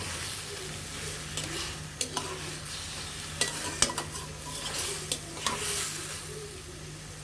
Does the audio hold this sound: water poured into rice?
no